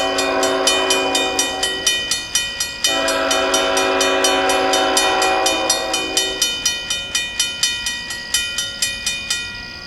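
A freight train led by a Union Pacific locomotive rolls past at night with a loud steady horn-like tone and a regular rhythmic clatter of wheels over rail joints, close and continuous.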